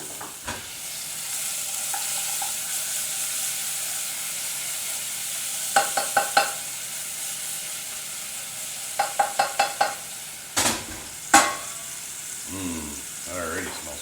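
Onions sizzling as they fry in a pan, a steady hiss running throughout with clusters of sharp scraping stirs and clatters, and a voice speaking briefly.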